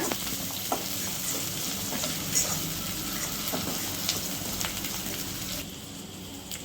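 Green chillies fry in a pan for a brinjal masala gravy, giving a steady close crackling sizzle with occasional scrapes of a stirring spoon, easing slightly at the end.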